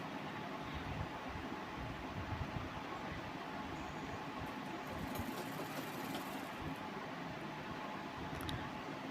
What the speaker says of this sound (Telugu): ఇలా కరెక్ట్గా పెట్టుకొని ఈ విధంగా రెండించులు కుట్టు వేసుకోవాలి